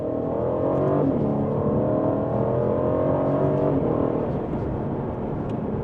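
A 2022 Aston Martin Vantage V8 in sport mode drones loudly from inside the cabin, its engine note rising and shifting as it revs and accelerates on the road for several seconds.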